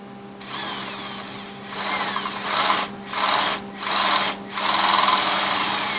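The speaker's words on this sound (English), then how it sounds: "open up this second hole right here to a 5/16 with a 5/16 drill bit" A power drill with a 5/16-inch bit whirs in several bursts of varying length while drilling out a hole for a Jeep fender install, loud and close, with short pauses between each run.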